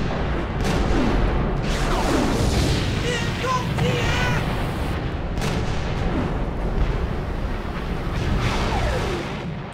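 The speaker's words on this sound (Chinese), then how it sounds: "从12:55开始，双方舰队在5000米左右的距离上展开相互炮击。" Naval artillery exchange between warships in the 1894 Sino-Japanese War at sea, war film scene: heavy booming cannon fire and rumbling blasts over a dense, loud battle soundscape, with shouted voices and whistling effects mixed in.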